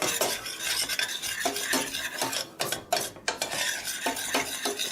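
Butter and flour are stirred into a roux in a pan for macaroni and cheese, a busy close scraping and clinking of the utensil over a soft sizzle, with brief pauses.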